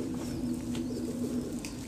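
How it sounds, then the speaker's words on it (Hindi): Soft, low cooing from golden pigeon chicks, a continuous murmuring coo close by with faint background noise. "ये गोल्डन कबूतर के। गोल्डन कबूतर के बच्चे हैं जी।"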